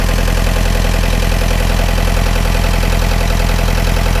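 A Yanmar B50 excavator's diesel engine idles steadily, a loud, close, continuous rumble with an even low-pitched chug that holds unchanged throughout, with no voices over it.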